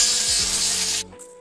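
PVC pool plumbing pipe being cut by hand during a Pentair pool system upgrade, a steady loud rasping saw stroke for about a second that stops abruptly, leaving a quiet tail.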